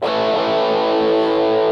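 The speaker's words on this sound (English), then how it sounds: "Edge is kind of a crunch. It's a little more than a crunch." Electric guitar chord played through an MXR Rockman X100 pedal set to its Edge crunch mode, a single sustained, harmonically rich overdriven strum ringing loud and steady with no talking.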